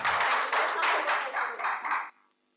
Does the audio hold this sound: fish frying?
no